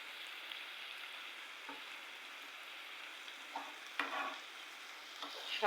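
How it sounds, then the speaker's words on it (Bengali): Potato pieces frying in a pan over medium-low heat give a steady, soft sizzle with a few faint stirring scrapes and clinks near the end. "আমি আলুটো করে ভেজে নিচ্ছি হালকা মিডিয়াম লো আঁচের মধ্যে।"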